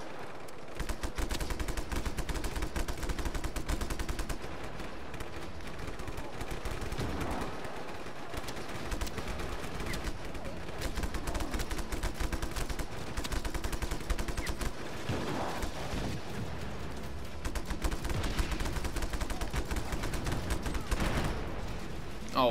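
Gunfire in the video game Just Cause 3 comes as dense, continuous bursts of automatic shots with heavy booming impacts, loud and sustained through the whole stretch.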